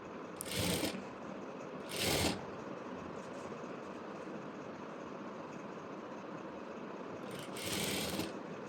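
A sewing machine stitches a half-inch seam on a maxi sleeve cut from a saree, with a few short bursts of stitching standing out from a steady background hum.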